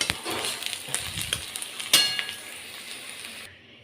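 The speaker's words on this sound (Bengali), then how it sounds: "এখানে আমি ঘি দিয়ে বেরেস্তা ভেজে নিচ্ছি।" Sliced onions fry in hot ghee in a pan to make beresta for shahi mutton biryani. A soft, steady sizzle runs throughout, broken by a few light utensil clinks and stirring scrapes.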